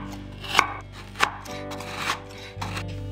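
Frozen leftover bonito flakes chopped finely with a kitchen knife: four or five sharp, separate chops spaced about half a second apart, close and crisp, with no talking.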